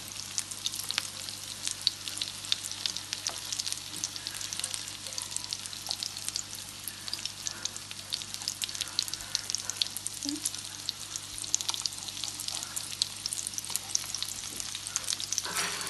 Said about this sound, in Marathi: आता दोन्ही सायडीन फ्राय करून मागीर तुमकां दाखयता